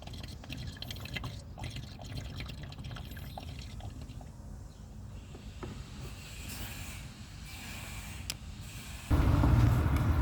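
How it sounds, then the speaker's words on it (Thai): Gear oil is poured into the gearbox of an Isuzu D-Max 1.9 pickup, a soft, faint trickling and dripping of liquid with low background hiss, ending in a louder rumbling burst, no talking. "ต่อไปก็เปิดฝา เติมน้ำมันเกียร์เลยนะครับ"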